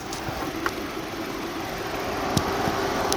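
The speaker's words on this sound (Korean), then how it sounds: "정말 정숙한 엔진 사운드 들어보실 수가 있으신데요" A steady, quiet Nissan Altima gasoline engine idles with the hood open, a low, even hum and faint mechanical ticking, no talking.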